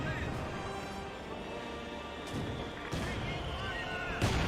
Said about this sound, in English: Got the artillery flare there. Gets a good hit on the Grenadiers.